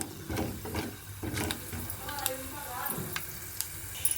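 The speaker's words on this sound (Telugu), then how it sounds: "అది చిటపటం అంటున్నాయి" Coriander and cumin seeds crackle quietly as they roast with peanuts in a pan for ridge gourd chutney: soft scattered pops and light stirring over a low sizzle.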